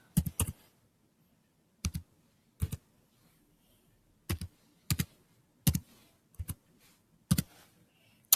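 Someone types an ISBN number on a computer keyboard in short bursts of quick key clicks, separated by pauses, close and moderately loud, with no talking.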